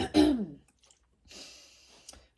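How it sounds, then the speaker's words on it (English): A close, throaty rasp of someone clearing their throat, followed by a soft breathy exhale. "Let me clear my throat."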